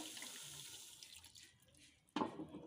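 Faint running water trickles, then a sudden closer splash and gurgle as a glass of water pours into a pot of tomato pieces and tamarind for tomato rasam.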